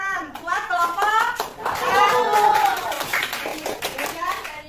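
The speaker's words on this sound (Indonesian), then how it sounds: "Tepuk tangan buat kelompok" Students in a classroom clap their hands for a presenting group, scattered claps heard under lively children's chatter and voices, some rising in a sing-song tone.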